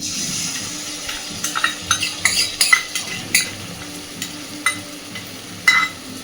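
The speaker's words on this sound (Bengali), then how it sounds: "বেটে নেওয়া মশলাটা এবার দিয়ে দিচ্ছি" Ginger, green chilli, melon seed and a little cashew paste going into a hot pan for a vegetarian dish, a series of soft scraping stirs and light clinks over a faint sizzle, close and fairly quiet.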